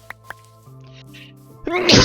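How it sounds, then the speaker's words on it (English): A single loud, close sneeze bursts out at the end, preceded by faint background tones and a couple of small clicks. "I've now sneezed."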